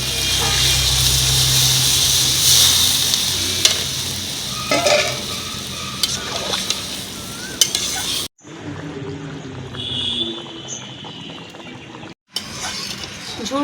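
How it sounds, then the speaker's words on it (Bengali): Chicken feet curry sizzling hard in a pan as water is poured in and stirred, a loud continuous frying hiss with scraping spoon strokes, then briefly cutting out before resuming. "এবার আমি দিয়ে দিচ্ছি জল।"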